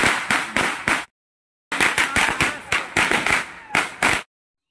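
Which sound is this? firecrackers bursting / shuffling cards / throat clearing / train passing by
firecrackers bursting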